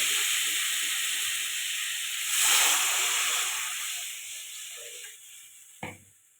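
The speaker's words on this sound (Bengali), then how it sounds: "এবার দিয়ে দেবো জল।" Water poured into a pan of frying potato curry sets off a loud hiss and sizzle that swells, then gradually dies down to a quieter simmer, ending with a brief knock of a utensil.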